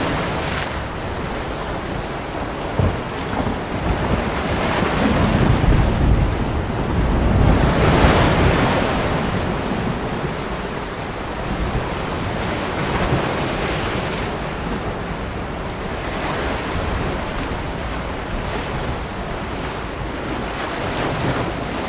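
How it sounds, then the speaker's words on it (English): Gentle ocean waves roll in a long, steady wash that swells and recedes in slow surges, with wind noise and no voices. "The sound of gentle waves is heard as the thunder rolls"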